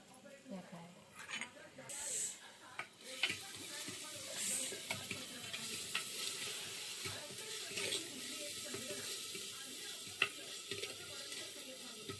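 Ginger garlic paste frying with chicken in a pot over a wood-fired stove, giving a steady soft sizzle with scattered stirring clatters and scrapes, moderately close, with a voice talking intermittently over it.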